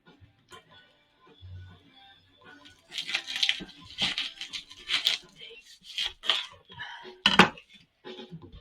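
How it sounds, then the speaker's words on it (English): A knife slices down through the middle of an onion on a cutting board, with sparse quiet taps and scraping strokes that grow into a cluster of crisp knocks and rasps. "You want to cut right down the middle, okay?"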